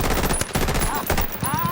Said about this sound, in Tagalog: Walang tigil ang palitan ng putok.